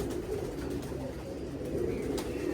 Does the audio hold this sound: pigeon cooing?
yes